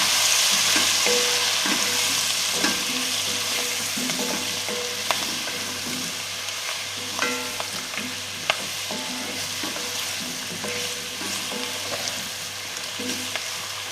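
A spoon stirs vegetables caramelizing with cornstarch in a pot for a vegetarian bourguignon, giving a steady close sizzle with repeated scraping and clinking strokes against the pot.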